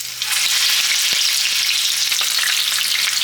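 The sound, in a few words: plantains frying in hot canola oil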